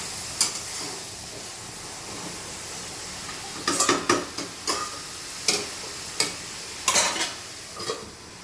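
Chicken frying in a pan gives a steady, close sizzle, broken by several sharp metallic scrapes and clinks of a spatula stirring, with no voices.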